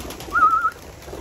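A racing pigeon gives a single short, soft coo close by against quiet outdoor background.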